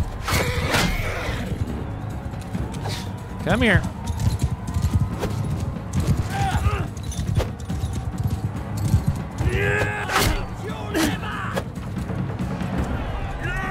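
Horse hooves clip-clop steadily through a Mount & Blade II Bannerlord siege battle, with sharp neighs and whinnies breaking in amid clashing noise while a player speaks briefly.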